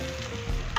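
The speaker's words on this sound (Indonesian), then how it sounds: "Kita aduk." Green beans stirred in a frying pan with a little added water, a steady close sizzle with soft scraping and a brief louder stir stroke near the end.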